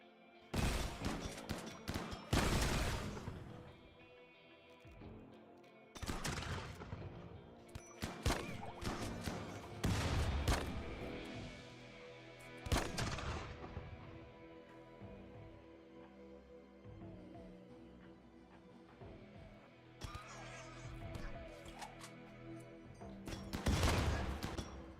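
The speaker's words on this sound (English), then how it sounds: "Their small arms fire can't get past my armor." Small arms gunfire in the video game Rimworld: scattered volleys of sharp shots and rattling bursts, some dense and loud, separated by quieter gaps.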